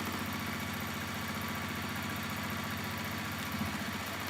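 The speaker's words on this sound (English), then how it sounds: "you can see how it sews." A sewing machine stitches a see-through bag, running as a steady, even mechanical hum with a fast rhythmic chatter, close and continuous, with no talking.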